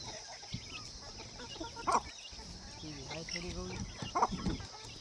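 A hen in a village yard clucks in a few soft, brief bursts, faint and somewhat distant amid background noise and people talking nearby.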